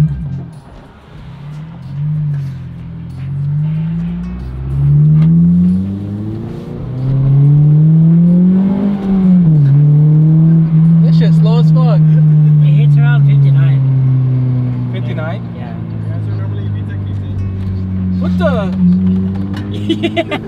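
Modified Honda car engine revving and accelerating while driving, a loud rising and falling engine drone that climbs through several pulls, with people talking over it inside the cabin.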